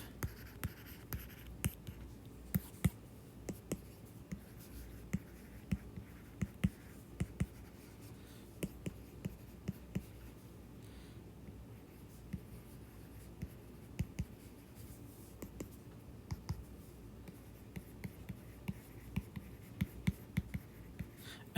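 Marker or chalk writing on a board during a physics lecture on circular motion, a long run of faint scratchy strokes and taps in an irregular rhythm, with brief quiet gaps and no speech.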